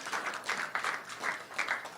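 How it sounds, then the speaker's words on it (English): Audience applause for a speaker named Greg at a science update meeting on FSH research, a steady patter of clapping hands lasting the whole moment at moderate distance. "let's give Greg a round of applause"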